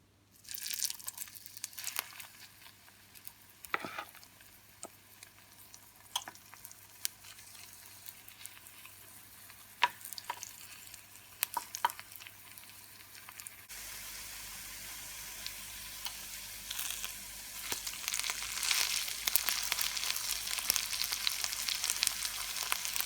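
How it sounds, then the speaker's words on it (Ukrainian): Steady crackling sizzle of mushroom cutlets frying in a covered pan over high heat, with scattered pops; the frying grows louder and brighter partway through and continues. "Спочатку буду смажити під кришкою."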